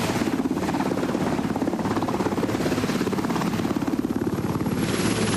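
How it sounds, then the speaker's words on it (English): A presidential helicopter bearing the presidential seal, with a white top, arriving at a 1989 Boston University commencement; steady, loud rotor chop and turbine whine fill the whole stretch without letup. "This helicopter, however, is different in marking than the first 2."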